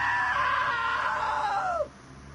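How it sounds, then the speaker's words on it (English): A loud, sustained scream from a character in the video game What Remains of Edith Finch holds steady for nearly two seconds, then bends downward and cuts off abruptly, leaving quiet background. "Now that was a great scream."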